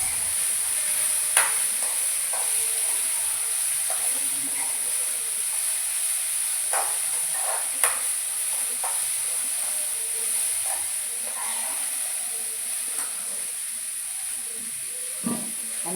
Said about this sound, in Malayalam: നമുക്ക് നന്നായി ഇളക്കി കൊടുക്കാം.